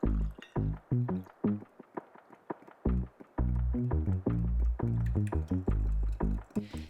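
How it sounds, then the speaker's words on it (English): Ginger syrup of rice malt syrup and water being stirred hard, giving quick, irregular close-up clinks and wet sloshing bursts in a steady busy rhythm, with no talking. "Give it a really good mix and now you have your ginger syrup ready to go."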